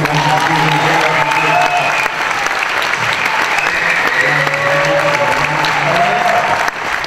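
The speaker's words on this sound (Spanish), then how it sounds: "Quiero un fuerte aplauso para Álvaro" Loud, sustained applause from a crowd welcoming Álvaro Farías, a partner credited for video industry work, steady dense clapping throughout with a brief dip midway and some faint voices mixed in.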